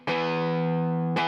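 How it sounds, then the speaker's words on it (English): A Paul Reed Smith DGT electric guitar played through an overdriven Fender Pro Junior amp with a 12-inch Celestion Vintage 30 speaker and added reverb: one loud sustained distorted chord, then a second struck at the end. "I'm playing a Paul Reed Smith DGT guitar."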